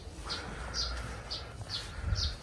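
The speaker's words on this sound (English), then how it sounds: "The only sound I can hear is of birds chirping." Birds chirp at a quiet, serene spot on a Mumbai to Leh road trip, with short tweets repeating roughly every half second over faint background hum.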